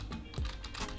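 Soft, quick typing on a computer keyboard while entering a snippet name in a Shopify theme editor, a faint rapid patter of keystrokes with no voice over it.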